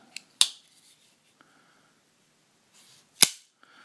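A Kershaw Knockout folding knife blade snapping open twice, each a sharp, loud metallic click close up, separated by a few seconds of quiet with faint handling noise.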